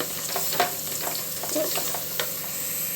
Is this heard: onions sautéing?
yes